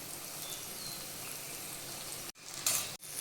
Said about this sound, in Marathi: आता आपण ते भरलेली वांगे टाकूया मसाल्यानं.